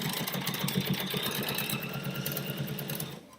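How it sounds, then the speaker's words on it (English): A sewing machine stitching down a fabric strip onto background fabric, a steady, close mechanical whir with fast needle chatter running continuously before stopping. "So let me sew this down."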